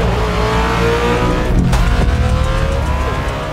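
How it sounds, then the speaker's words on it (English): A Bugatti Tourbillon's naturally aspirated V16 roars loud and close, a dense sustained engine howl with a sharp surge midway, alone with no voices. "the naturally aspirated V16, which is going to have this unique sound"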